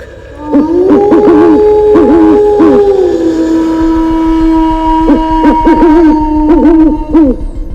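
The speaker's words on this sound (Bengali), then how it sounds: "সেই সঙ্গে শুনতে পেলাম শেয়াল আর প্যাঁচার ডাক" Long, wavering animal howls mixed with hooting owl calls ring out loudly and continuously in a spooky night scene for a Bengali horror audio story, a jackal's drawn-out wail rising and falling over repeated owl hoots.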